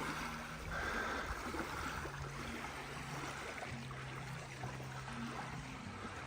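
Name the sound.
waves lapping at the shore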